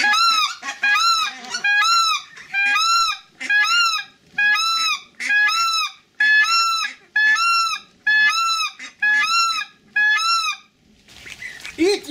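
A Schoolhunter Dominator mouth call blown to imitate the alarm call of a white-fronted goose, about a dozen loud, close, rapid honking bursts in a regular rhythm, with no talking.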